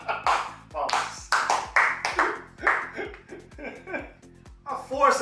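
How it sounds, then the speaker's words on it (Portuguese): A small group claps in short bursts of applause, with children's voices and laughter mixed in and brief quiet gaps between the rounds of clapping. "Palmas."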